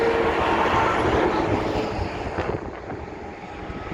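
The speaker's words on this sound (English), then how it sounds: "Train, there goes a train over there." A train rumbles past in open desert along California Route 58, a broad, steady roar heard from inside a moving long-haul truck, fading somewhat over four seconds amid wind and road noise.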